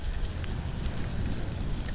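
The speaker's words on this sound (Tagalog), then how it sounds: "Umuulan na naman dito." Steady rain falls on a mountain road in the Cordillera highlands between Ifugao and Benguet, a dense continuous patter mixed with low wind rumble against the microphone, loud and close throughout.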